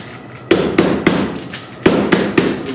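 A hammer strikes sharply six times in two groups of three, each blow a crisp close knock with a short ringing decay.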